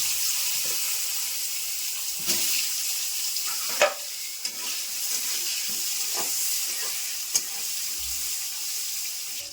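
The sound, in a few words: eggplant (brinjal) frying in fish oil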